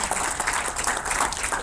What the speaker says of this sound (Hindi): आपके लिए तालियां तो बनती ही हैं